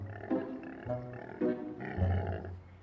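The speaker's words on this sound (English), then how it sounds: "That's the sound of a sick dino" Sick stegosaurus dinosaur toy giving low, pig-like grunting growls, four or five short guttural bursts in a row, soft and alone.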